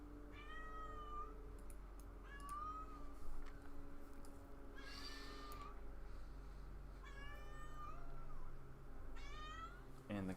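A cat meows repeatedly in rising, drawn-out calls spaced every couple of seconds, fairly close and clear over a steady low hum of room noise.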